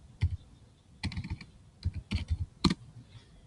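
Keys clatter on a computer keyboard in a few quick bursts separated by short pauses, close and moderately loud, as a search term is typed in.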